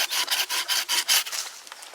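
A bow saw cuts through a piece of wood in rapid rhythmic strokes, a close, loud, raspy scraping that pulses about eight times before trailing off into lighter rubbing.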